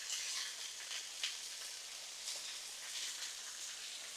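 Chicken sizzles on a Blackstone griddle as a steady, quiet, close hiss with small crackling pops.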